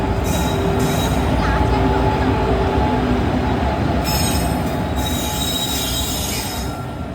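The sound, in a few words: train at a railway station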